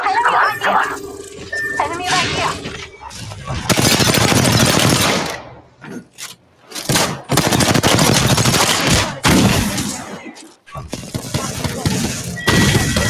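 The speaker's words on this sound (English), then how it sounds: "we got an airstrike right now" Heavy automatic gunfire and airstrike blasts in the video game Apex Legends, loud sustained bursts of rapid shots with brief pauses, while someone talks in the lulls between volleys.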